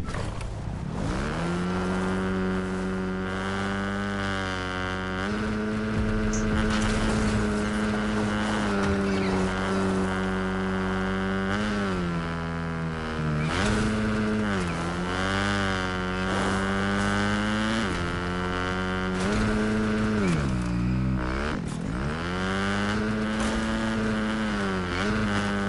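A loud motorbike engine drones in Fortnite, its pitch rising and falling steadily as it revs and shifts over about 25 seconds, close and continuous with no talk.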